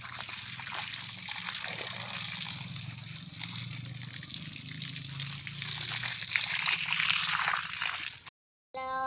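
Water pours and trickles steadily for several seconds at a Hanuman temple in Kantor, a continuous splashing stream that briefly cuts out near the end.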